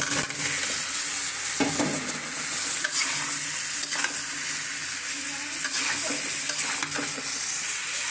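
Potatoes stir-fry in a pan with a continuous loud sizzle and repeated scraping strokes of a spatula, close up and without talk.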